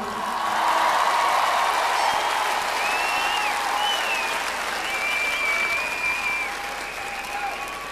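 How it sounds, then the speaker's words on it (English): A large concert crowd at a live show applauds loudly and keeps it up, with whistles and scattered cheers rising over the clapping before it slowly tapers off. "Give yourself a round of applause."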